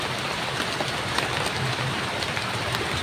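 Steady rain falls and patters on surfaces at close range, a dense, even hiss of drops that continues without a break and with no voices over it.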